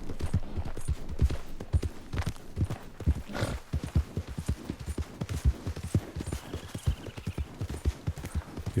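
Horse hooves of Rochambeau, a horse in the video game Red Dead Redemption 2: steady, rhythmic clip-clop hoofbeats on hard ground, close and even in pace, with a faint snort partway through and no talking.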